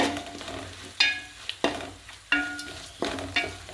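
A spoon stirs a turmeric and spice mixture for pickle, giving repeated scraping, sizzling strokes in a steady rhythm, close and fairly quiet.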